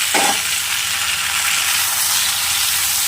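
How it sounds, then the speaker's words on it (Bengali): Cauliflower pieces and chopped potatoes frying in a pan for a vegetarian Bengali cauliflower dish, giving a loud, dense, continuous sizzle heard up close, with one brief low knock at the start and no talk. "ফুলকপিগুলো ভাজা হয়ে গেছে, এইবার দিয়ে দেবো কেটে রাখা আলুগুলো"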